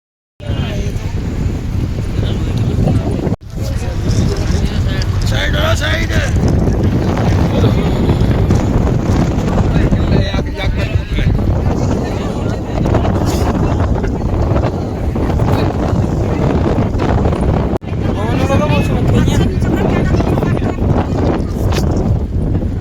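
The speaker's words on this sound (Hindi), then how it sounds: "और हवा इतनी तेज़ थी पुल के ऊपर निकलते समय" Strong wind buffets the microphone on the Ram Jhula suspension bridge over the Ganga in Rishikesh, a loud continuous roar and rumble with brief gaps, as a voice talks over it.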